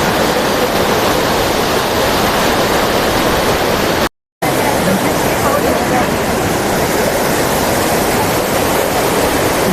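Loud, continuous rushing water from a waterfall fills the air with broadband roar, briefly cut by a short silent gap before resuming unchanged.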